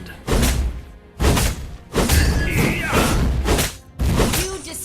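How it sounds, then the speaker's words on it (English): A turret being destroyed in the Mobile Legends video game, heard as loud game effects with heavy thuds and crashing bursts in several separated blasts, mixed with an in-game announcer voice. "You destroyed the turret."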